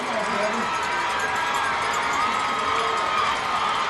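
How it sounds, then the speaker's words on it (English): A steady wash of crowd noise fills the stands at a Douglas County versus Lithia Springs high school football game, with scattered cheers and shouts rising over a constant murmur, heard from within the stadium and tinged with commentary. "the crowd is into it here at Lithia Springs"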